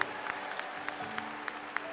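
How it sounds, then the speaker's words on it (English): A church congregation applauds and cheers at a baptism, scattered claps and a soft crowd murmur heard at a distance, fairly faint and brief. "You got a cheering section out there, Silvana."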